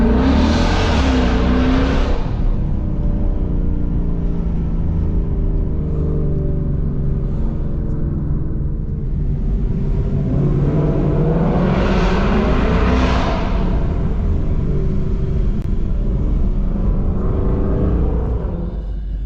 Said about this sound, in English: So that was the Corsa Xtreme Catback exhaust for a Mustang GT.